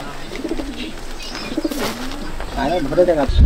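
Pigeons coo in a rooftop loft in a village, several low, rolling calls that repeat close by, mixed with someone talking and a rustle near the end.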